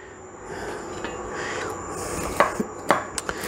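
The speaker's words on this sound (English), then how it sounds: "cut those into bite-sized pieces" Knife chopping ingredients into bite-sized pieces on a cutting board for a Waldorf salad, starting with soft scraping and then a run of crisp, close, irregular chops.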